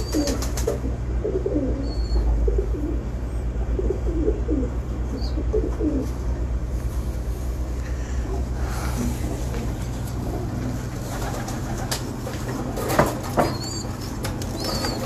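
Pigeons coo softly at close range over a steady low hum, with scattered fluttering and rustling of wings and a couple of sharper knocks.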